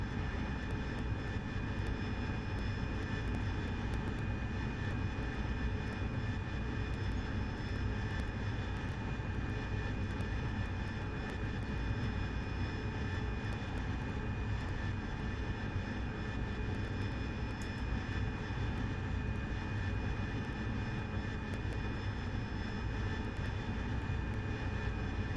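An AV-8B Harrier jet in DCS holds a near-hover over a carrier, a steady unbroken jet engine roar with a high whine, constant in loudness throughout.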